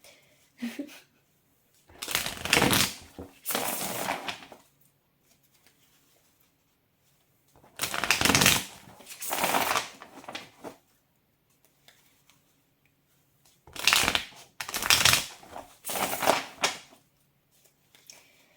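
Oracle and tarot card decks being shuffled, three separate bursts of close, crisp riffling and flapping card sounds, each lasting a few seconds with quiet gaps between.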